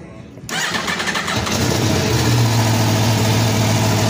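A 2019 Aprilia Tuono RR motorcycle engine cranks and fires after a brief quiet moment, then settles into a loud, steady idle close by.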